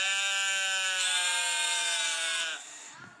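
A sheep's sustained, loud bleat comes from a recording played in a children's church service, then breaks off and fades near the end, leaving faint room noise.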